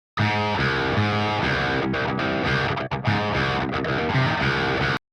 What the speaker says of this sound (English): pulling back the distortion, you get this really cool, like, kind of intro DI type feel